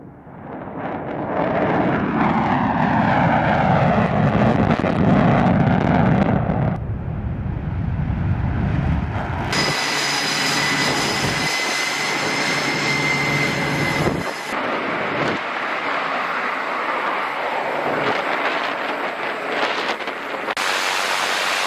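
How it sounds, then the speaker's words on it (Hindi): B-1 bombers and fighter jets taking off and landing on a runway during a military operation, heard as a loud, sustained jet roar that shifts partway into a harsher, whining engine blast. "वीडियो में B-1 बमबार तैयारों और दीगर फाइटर जेट्स को उड़ान भरते और दोबारा रनवे पर आते हुए दिखाया गया है।"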